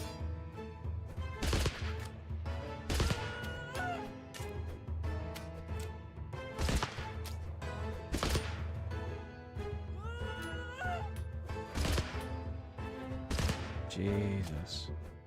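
Repeated gunshots from a medieval-style video game battle, sharp loud cracks recurring every second or two over a dense layer of game music and battle noise.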